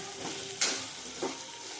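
Vegetables for upma sizzle and get stirred in a pan alongside roasting semolina, with a soft steady fry and two brief scraping stir strokes standing out, close and alone without talk.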